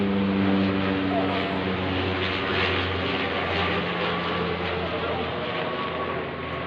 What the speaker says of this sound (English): It's only a little plane